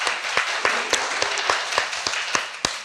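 A small studio audience claps in a steady scattered patter of sharp hand claps, roughly a dozen distinct hits over a few seconds, close and fairly loud with no talking.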